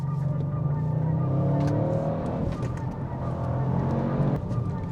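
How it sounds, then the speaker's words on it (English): A tuned Audi RS6 C8 with about 680 horsepower pulls hard on the Autobahn, its engine drone steady and loud with rising tones and a gear change midway, heard from inside the car amid road and wind roar. "So back on the road in a tuned RS6 with now about 680 horsepower, let's see how it performs."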